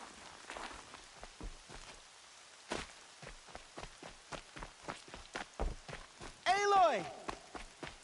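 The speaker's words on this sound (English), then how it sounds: "Rain's not so bad." Steady rain patters throughout in the video game Horizon Zero Dawn, with regular footsteps splashing along, and a voice speaks briefly near the end.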